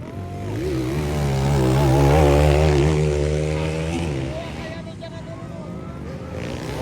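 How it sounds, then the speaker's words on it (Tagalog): A racing motorcycle at a local enduro final round in San Carlos, Valencia City, Bukidnon revs loudly with rising and falling harmonic engine tones, swelling to a peak and then fading, heard under a commentator's voice. "Grabe talaga ang motor mo Bossing, sobrang lakas."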